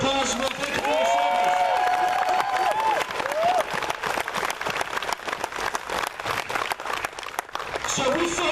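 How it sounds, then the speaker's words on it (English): An audience at a speech event applauds for veterans, dense clapping and some cheering filling the room, with a voice speaking over the start and the applause continuing strongly throughout. "Let's give them a round of applause and we'll thank you for your service."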